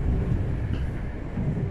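A Tokyu 5050 series train runs as an F Liner rapid express on the Seibu Ikebukuro Line between Tokorozawa and Shakujii-kōen, making a loud, close, steady low rumble of wheels and running gear.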